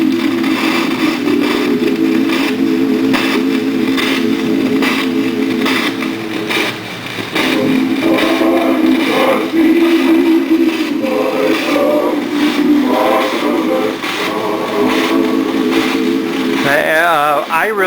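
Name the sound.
old home disc recording played on Meissner 1947 phono recorder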